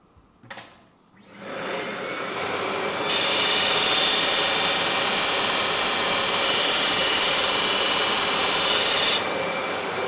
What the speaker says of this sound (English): We're looking to get a really nice coarse linish on these shafts.